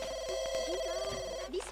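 A telephone rings in The Sims 2 video game, a faint electronic ringing tone repeating steadily under quiet background sounds.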